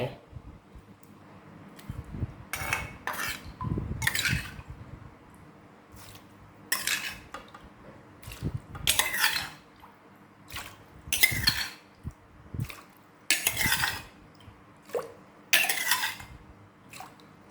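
Water poured into a fish mok mixture for an Isan dish and stirred, heard as repeated clinks of a utensil against a pot and sloshing liquid in short bursts.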